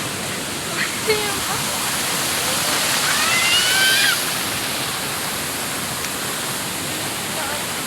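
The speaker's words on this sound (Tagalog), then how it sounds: "Pupunta kami dito kami sa falls." A waterfall produces a constant broadband rushing roar, fairly loud and even throughout, with faint voices and brief knocks over the steady flow.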